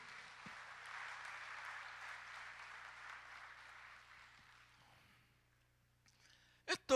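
A church congregation gives an ovation, a broad wash of applause that holds steady for several seconds and then fades out, leaving near-silence broken by a couple of sharp knocks at the end.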